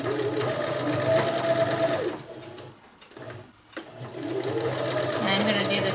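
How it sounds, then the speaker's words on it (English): A sewing machine stitches the whole side seam of outer fabric for a bread bag, running in a steady whirring drone that pauses briefly midway and then resumes, with a voice talking over it. "on the outer fabric, I'm going to sew the whole side up"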